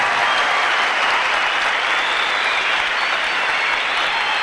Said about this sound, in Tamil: இந்த ஒரு கைத்தட்டல் இன்னும் ஒரு வாட்டி தட்டுங்க கேட்டுக்கேன்